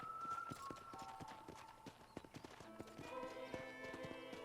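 Horse hooves clip-clop at a steady walking pace in the Red Dead Redemption western video game, close and rhythmic over a ranch ambience with soft music tones.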